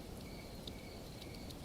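Crickets chirp steadily in a quiet night, a thin high trill with brief brighter pulses, faint and continuous.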